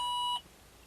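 A Ford Explorer's key-on warning gives a steady electronic beep tone close by for about a third of a second, then cuts off, leaving quiet background.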